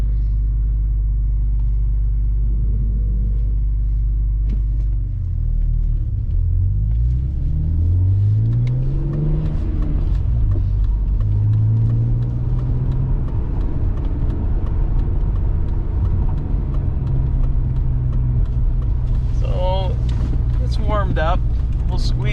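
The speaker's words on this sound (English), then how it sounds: "Exhaust has a very nice sound" Low, steady rumble of a 2001 BMW Z3 M Roadster's S54 engine and exhaust while driving, with smooth rises in pitch as it pulls through the gears and a voice talking over it.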